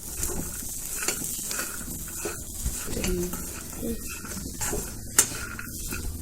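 Fresh peas, green chickpeas and other beans being dry-roasted in a pan for a mixed vegetable dish, with steady stirring, scraping and a soft sizzle close by, and bird coos in the background.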